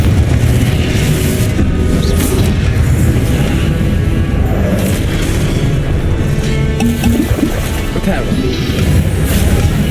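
Confringo fire-blast spells explode in the video game Hogwarts Legacy, loud crashing booms and rumbling impacts that keep bursting over a dense, continuous background of combat noise.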